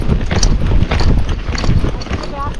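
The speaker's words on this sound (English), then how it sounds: "So that's his little canter." A young horse on its second ride canters, its hooves drumming in a quick, uneven rhythm close by, while people talk over the hoofbeats.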